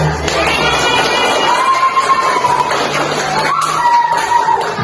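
A lively crowd of primary school children cheering and shouting together in a classroom, with a steady wash of noise and no distinct clapping standing out.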